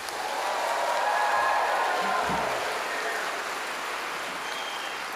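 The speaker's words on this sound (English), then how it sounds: "I just want to hear what you've got in terms of clapping and cheering" Graduation ceremony audience clapping and cheering together on a count of three, a broad, steady wash of crowd noise filling the hall for several seconds.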